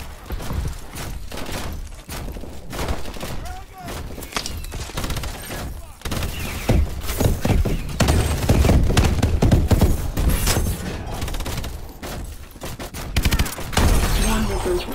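Heavy weapon fire from a Goliath exosuit in Advanced Warfare, with swarm missiles and rockets launching: dense, loud bursts of thumping blasts and crackling impacts that run continuously and build in intensity throughout.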